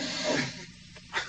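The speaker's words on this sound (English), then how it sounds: "Here's the air hiss." A short burst of broadband hissing, like air escaping under pressure, fading midway and then swelling briefly again near the end.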